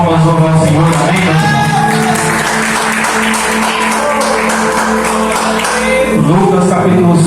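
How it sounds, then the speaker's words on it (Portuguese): A church congregation breaks into loud sustained applause, dense steady clapping mixed with cheers and a few voices calling out, filling the whole stretch without pause. "Que as palmas louvam ao Senhor"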